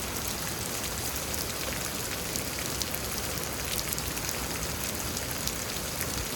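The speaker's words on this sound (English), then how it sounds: "pretty intense rainfall rates, deceptively intense actually" Heavy, steady rain pours down in Houston, Texas, a dense, unbroken hiss of drops hammering surfaces at close range, with scattered sharper splats standing out above the constant wash and no voices present.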